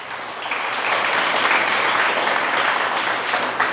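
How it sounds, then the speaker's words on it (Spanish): Steady audience applause during a church sermon, a broad wash of many hands clapping that swells after a brief start and holds evenly throughout, no voices over it. "Dale un aplauso a Dios por eso."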